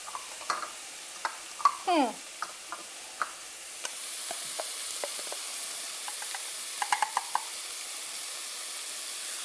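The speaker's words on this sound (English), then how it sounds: "Okay, there goes my tomatoes. Mix it together and let it get sauteed and cooked in the pan" A cup of chopped tomatoes added to browning onion in a pan, a soft steady sizzle with scattered clicks of a spoon stirring, quiet and close.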